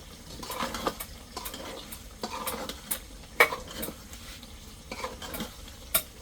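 Meat is stir-fried in a pot for bhuna khichuri, with repeated scraping strokes of a spoon against the metal and a soft, continuous sizzle underneath, heard close up.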